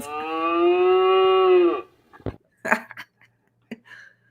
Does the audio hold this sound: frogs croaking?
no